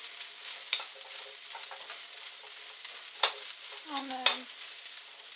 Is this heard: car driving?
no